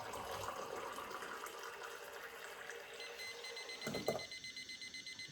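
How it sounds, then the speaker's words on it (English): Boiling water pours steadily into a cup, then a liquid level indicator starts a rapid, high-pitched electronic beeping that keeps repeating as the pouring continues. "if you can hear there, it's peeping away, so I know that the cup's full"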